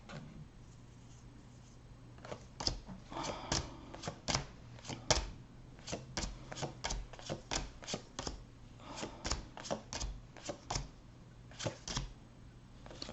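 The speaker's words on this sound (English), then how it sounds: "I'm trying to find a certain card here" Playing cards from a deck are flipped through one by one, giving a quiet, close run of crisp irregular snaps and flicks with short pauses between them and no talk.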